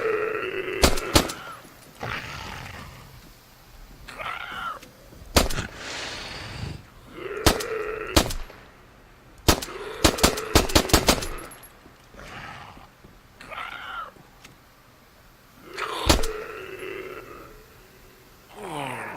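Pistol gunshots ring out in a co-op survival zombie video game, sharp cracks in scattered bursts and clusters, mixed with grunts and groans from creatures.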